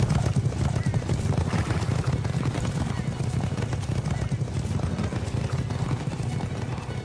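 A horse gallops with a continuous rapid clip-clop of hooves and neighs loudly, the pounding steady and close throughout, heard under a speaking voice.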